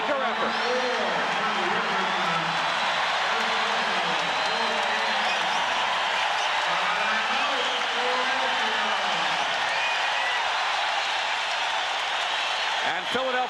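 Crowd in a basketball arena cheering the Lakers during a 1983 NBA Finals game against the Philadelphia 76ers: a steady, broad roar throughout, with a commentator talking over it.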